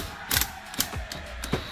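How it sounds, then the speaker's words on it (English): A nut comes off a Mini Cooper front strut held in a spring compressor, with a tool giving several close, sharp ratcheting clicks at an irregular rhythm and no talk. "you're going to take this nut off, as long as the spring compressor is on there"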